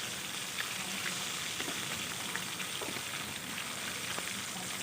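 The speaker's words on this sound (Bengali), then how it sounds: "মাছগুলোকে আমি একটু কড়া করে ভাজবো" Rui fish pieces frying in hot oil for a Bengali do-pyaza, giving a steady, quiet crackling sizzle with faint scattered pops throughout and no talking.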